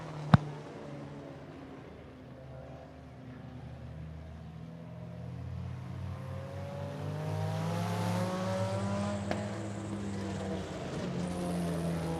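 Race cars roar along the back stretch of 411 Motor Speedway, a steady engine drone with rising and falling pitch as cars pass at a distance, one brief sharp click near the start.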